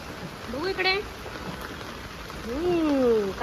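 Heavy morning rain pours down as a steady hiss, with voices talking and calling over it.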